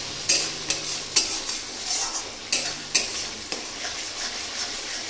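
Fish rubbed with salt and turmeric fries in a pan with a steady sizzle, broken by periodic clinks and scrapes of a utensil, with no one speaking.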